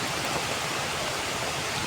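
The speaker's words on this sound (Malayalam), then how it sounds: "നല്ല മഴ കേട്ടോ" Heavy rain driven by strong wind pours down in a dense, steady roar that fills the whole scene with hiss and never lets up.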